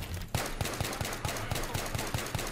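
Automatic rifle fire in Battlefield 3 online multiplayer, a steady rhythmic stream of rapid shots about every quarter second, fairly distant over a busy battle background.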